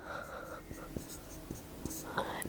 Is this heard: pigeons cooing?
no